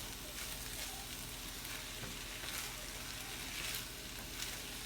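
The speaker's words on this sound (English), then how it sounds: "This is the time when the rice is actually beginning to fry." Rice and vegetables fry in a pan over medium heat, giving a steady, dense sizzle with faint stirring scrapes throughout. No one speaks.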